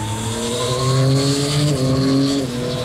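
A Yamaha MT-09Y AMT motorcycle with automatic transmission drops through a couple of gears, its engine note stepping up and down in quick revving bursts, loud and steady with no talk.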